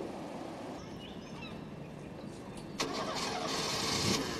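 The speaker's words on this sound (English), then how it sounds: "somebody to start that car when I start filming such a beautiful scene" A nearby car engine cranks and catches with a sudden rise at a scenic outdoor spot in Wales, then keeps running loudly over faint birdsong and ambient background.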